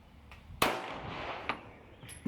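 Pistol shots from a polymer Glock 17 Gen 5 firing Sig 124 gr JHP rounds at a range: one sharp, loud report followed by a second quieter crack about a second later, with a faint pop at the end.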